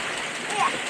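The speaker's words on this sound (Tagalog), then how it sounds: "Grabe ang uwan." Heavy rain pours down in a steady, dense hiss that holds at an even loudness throughout, close and continuous, with no voices heard.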